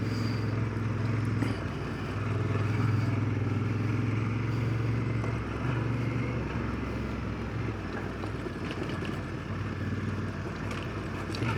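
A motorcycle carrying a rider and his son as passenger rides off-road, its engine holding a steady, continuous drone with heavy wind rush and rough rumble throughout, and no talking.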